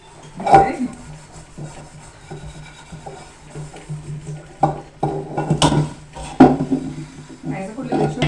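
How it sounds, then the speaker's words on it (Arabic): Pots and plates washed by hand in a kitchen sink: intermittent scrubbing and rubbing with sharp clinks and clatters of dishware, and faint talking in the background. "أغسل المواعين"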